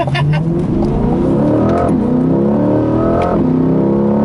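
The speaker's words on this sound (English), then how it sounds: "Super quick shifting on full throttle. And it moves." A 2020 Corvette C8 Stingray Z51 accelerates hard at full throttle, its engine note climbing loudly and dropping at two rapid upshifts before rising again, heard from inside the cabin.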